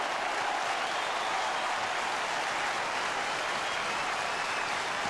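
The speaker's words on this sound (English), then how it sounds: "I'm sure this crowd will give St Kilda a standing ovation." Football crowd at Moorabbin applauding at quarter time in a 1992 St Kilda versus Hawthorn match, a dense, sustained wash of clapping and crowd noise from a large stadium audience, steady throughout.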